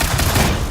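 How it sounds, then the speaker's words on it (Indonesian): Gunfire from a chaotic shootout in the film Free Fire: a dense, continuous burst of overlapping shots at close range and high level, with no pauses. "berubah menjadi aksi baku tembak yang tak terhindarkan"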